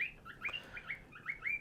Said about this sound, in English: If you can hear that in the background, that's my bird singing,